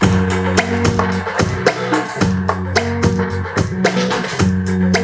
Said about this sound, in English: I then looped this little arpeggiated guitar.